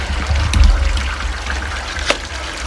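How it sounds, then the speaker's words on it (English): Water from a hose splashes and trickles while washing out a grimy pool skimmer basket outdoors, a close, steady spray with a brief stronger gush. "Quick wash off with a hose"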